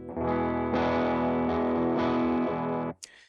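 A sustained electric guitar chord rings through a Universal Audio UAFX amplifier pedal on its normal setting, with a slightly distorted, chorused tone, restruck a few times, then cut off sharply near the end.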